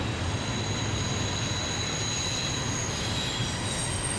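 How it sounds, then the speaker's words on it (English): A long Norfolk Southern train rounds Horseshoe Curve, its wheels squealing in sustained high-pitched tones over a steady, loud rumble of rolling cars. "It's just amazing to see the whole train around the bend"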